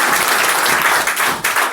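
An audience at a motivational business meeting applauds loudly, a dense burst of clapping from many hands lasting under two seconds.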